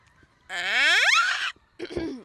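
A person imitates a bull elk bugle with their voice: a single rising, whistling squeal lasting about a second, then a short grunting burst, loud and close.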